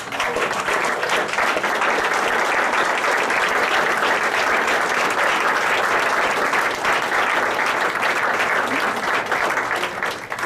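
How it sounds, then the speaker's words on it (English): A large crowd at a public gathering applauds loudly and continuously, a dense, unbroken wash of clapping that holds steady for about ten seconds. "Let's all give them a round of applause."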